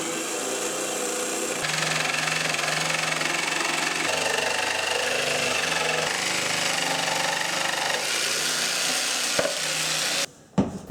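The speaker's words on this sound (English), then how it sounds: "I need to make the cutout for the luxurious and spacious stainless steel sink" A loud power tool cuts a sink cutout into a custom camper-trailer countertop, a harsh sustained buzzing whine that shifts pitch as it works, ending abruptly with a few clunks.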